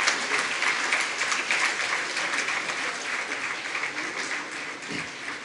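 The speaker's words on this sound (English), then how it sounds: "Ladies and gentlemen, a big round of applause to our chief guest, Mr. Mahesh Bhatt." Dense, steady audience applause for the chief guest at a women's convention inaugural session in India, loud and continuous without talk.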